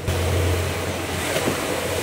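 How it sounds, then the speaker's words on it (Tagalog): Large post-storm waves wash around a small fishing boat out at sea, a steady rushing surge over the low hum of the boat's engine, with no talk. "Medyo malalaki pa ang alon."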